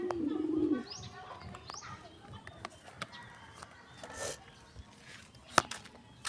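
Pet pigeons give a low, breathy coo right at the start, followed by faint chirps, light rustling and a sharp click in a quiet outdoor setting, with no talking.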